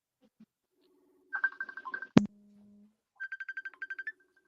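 A phone ringing on a call gives short bursts of electronic tones in a quick repeating pattern, faint against an otherwise quiet background.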